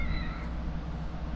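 A cat meows in the survival horror game The Evil Within, a few soft drawn-out cries high in pitch, heard close over a steady low droning game ambience.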